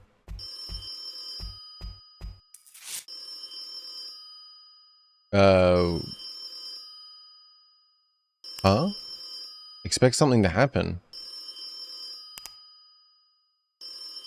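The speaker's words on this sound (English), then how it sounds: "Why do I still hear the phone?" Telephone ringing in a horror video game, repeated electronic ring bursts separated by silences, interrupted by a low droning tone and a person talking between rings.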